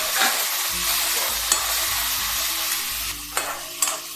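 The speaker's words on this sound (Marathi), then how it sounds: "त्याच्यामध्ये ठेचा टाकायचा आहे. ते चांगला हलवून घ्यायचं आहे." Thecha, a chili garlic paste, stirred and sizzling in a pan with mustard seeds: a steady frying hiss with scraping strokes and a few sharp clinks of the spoon against the pan, heard close with no talking.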